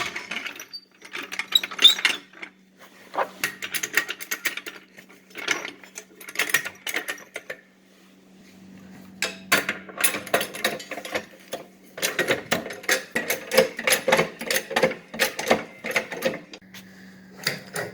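Floor jack being pumped to raise a 2006 Ford Mustang V6, a series of close mechanical ratcheting clicks and clanks in bursts with short pauses, alone without talk.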